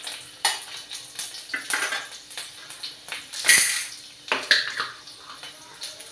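Peeled garlic cloves fry in hot oil in a pan for a tomato and coriander chutney, giving a steady broad sizzle with occasional clinks and clatters of utensils against the pan, close by and with no voices.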